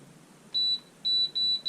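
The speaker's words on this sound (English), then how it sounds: "Sorry for all the beeping." Three electronic beeps from an air fryer being set to cook, a short tone followed by two longer ones in quick succession, clear and alone in a quiet kitchen.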